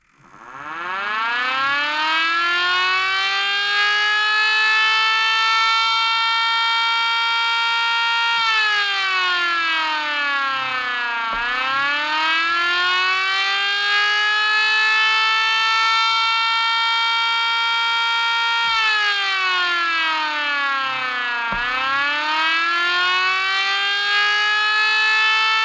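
A Mini Sentry Siren 10V civil defense siren runs a test, its loud harmonic wail holding steady, then dipping and rising again in repeated cycles for about twenty-five seconds with no talk.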